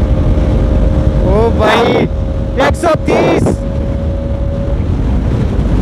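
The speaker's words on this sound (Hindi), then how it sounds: "R15 देखो भाई किस हिसाब से जा रहा है यार" A Yamaha R15 motorcycle riding at speed, with a constant loud roar of wind and a steady engine drone throughout while someone briefly shouts and calls out over it.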